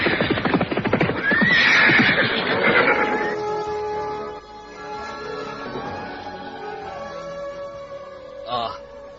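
A horse whinnies loudly near the start, with a rider approaching; hoof clip-clops and a second shorter neigh follow over a steady background bed, the sound fading somewhat after the first few seconds.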